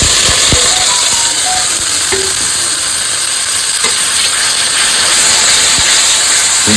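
Spice paste of cumin and chilli hits koi fish in a hot oiled pan, giving a loud continuous sizzle and hiss with occasional clinks and scrapes of stirring throughout.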